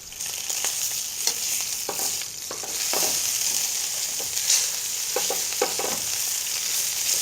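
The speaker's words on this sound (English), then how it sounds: "Keep an eye on our pork chop. Get that nice sear on it." Pork chop searing in a hot pan, a steady close sizzle with irregular crackles and pops throughout, no voices.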